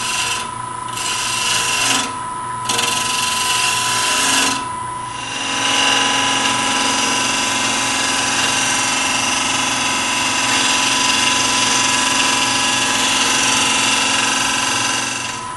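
A wood lathe turns a segmented hollow vessel glued in sections with a weak glue joint while a tool takes light cuts, giving a steady close scraping and rasping hum with a few brief interruptions early on before a continuous run.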